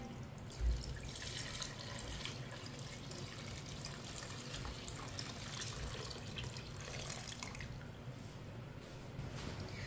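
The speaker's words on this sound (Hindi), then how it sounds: "एक किलो ताजा दूध डाल लेंगे।" Fresh homemade milk, about one kilo, pours steadily into a pot for bread kheer, a soft continuous liquid rush heard close and fairly quiet, without talk.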